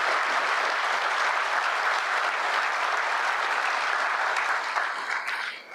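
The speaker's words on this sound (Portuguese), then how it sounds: "o presidente Lula acolheu uma salva de palmas às polícias do DF" An audience applauding Federal District police and security forces, a dense sustained clapping from a large crowd that fades slightly at the end, with no one talking over it.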